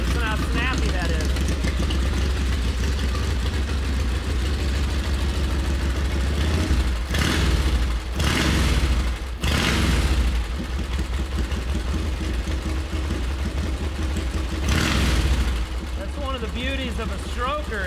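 A 1925 Super-X Super Sport motorcycle engine runs close by with a crisp, snappy beat, blipping the throttle in short revs over a steady idle while someone talks intermittently.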